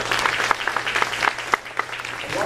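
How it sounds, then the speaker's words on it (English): A crowd at a public forum on a south suburban trauma center gives sustained applause, bright overlapping claps with a few louder individual hits, fading out at the close. "Give her a great round of applause."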